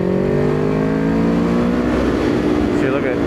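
A 2025 Kawasaki Ninja 500 SE KRT motorcycle engine, freshly tuned, winds down smoothly on deceleration, its steady drone sliding lower in pitch over a few seconds with continuous wind and road noise.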